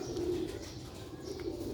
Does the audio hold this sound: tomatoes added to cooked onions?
no